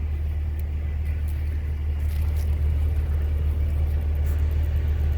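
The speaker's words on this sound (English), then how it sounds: "It's got a little 2-cylinder Kohler diesel motor in it." A small two-cylinder Kohler diesel engine runs steadily close by, giving a continuous low rumble with a faint whirring hum above it and no pauses or changes in pace.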